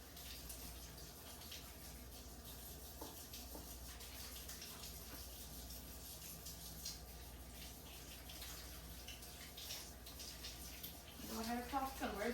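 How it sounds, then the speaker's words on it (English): Water runs from a tap as hands are washed, a quiet continuous stream with a low background hum and a brief voice near the end. "Let me wash this off my hands."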